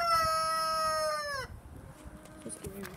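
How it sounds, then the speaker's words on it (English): A rooster crows once, a loud harmonic call lasting over a second, followed by quieter clucks and background noise. "It's a scary rooster."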